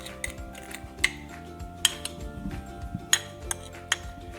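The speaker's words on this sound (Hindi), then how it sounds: "अब हम जो 2 चम्मच चीनी और 1/8 चम्मच जो जायफल या सिनेमन है उसको आप लेके मिक्स कर लेंगे" A spoon clinks sharply against a bowl while mixing sugar with nutmeg or cinnamon, a few distinct taps spaced about a second apart over a steady low background hum.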